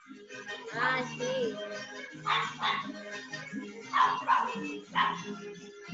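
A small dog barks in short, high yapping bursts spread across several seconds, fairly close and loud, with a whimpering, whiny quality between some barks and no talking.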